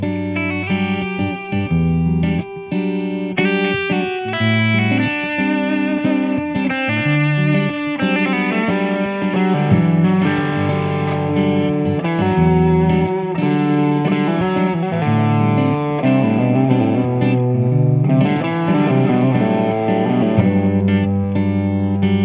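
An electric guitar plays sustained notes and chords through distortion and echoing delay, with tones ringing out and overlapping, loud and continuous.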